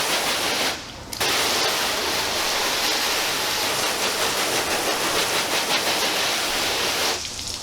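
Hose water rinsing down a car during a wash with Turtle Wax ceramic wash and wax, a loud, continuous rushing spray up close with a short break near the start and another at the end.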